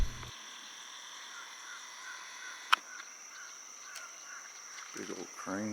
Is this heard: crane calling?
yes